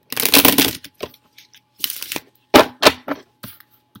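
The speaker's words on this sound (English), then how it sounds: "So let me pull some chakra cards also." Chakra cards shuffled and pulled from a deck, giving bursts of crisp card rustling and snapping in several close, uneven clusters with short pauses between them.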